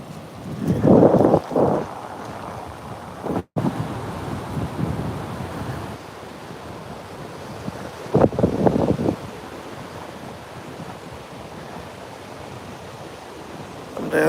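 Surf breaks along the shore at Ocean Isle Beach while strong wind buffets the microphone, giving a steady roar with louder rushing surges near the start and again partway through.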